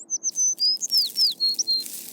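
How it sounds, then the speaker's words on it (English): A bird chirps a quick series of about ten sharp, high tweets in rapid succession, close and clear against a quiet background. "It's just a bird."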